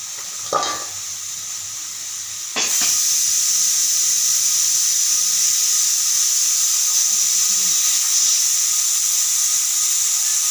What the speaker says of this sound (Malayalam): ചോറിന് ആവി വരുന്നുണ്ട്.